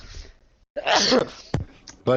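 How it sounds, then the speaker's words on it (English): A single person sneezes sharply and loudly up close, with a short breath and throat sound around it. "Hold on, I got to sneeze."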